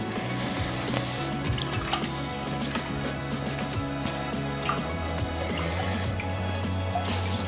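Cool water pours steadily from a tap over homemade paneer in a sink, a continuous splashing rush with faint squishing, no talking.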